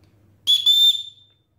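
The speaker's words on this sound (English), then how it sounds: "It comes with a knife, but it has a good whistle." A built-in whistle on a Ganzo G745 knife gives one shrill, close, loud blast of about half a second. The pitch holds steady and the tone is pure, with a brief break near the start before it fades.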